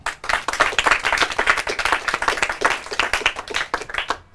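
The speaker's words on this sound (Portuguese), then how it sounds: "Palmas para ele." An audience at a Portuguese-language awards final gives loud, dense applause, many hands clapping steadily and close for several seconds before tapering at the end.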